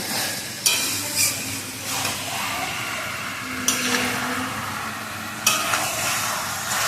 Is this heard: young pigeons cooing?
no